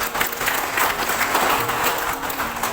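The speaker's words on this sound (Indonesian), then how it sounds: "Aplaus untuk kita semua." An audience claps steadily and evenly for about three seconds at a ceremony opening the renewed one-stop integrated service at the Samarinda district court, with no voices over it.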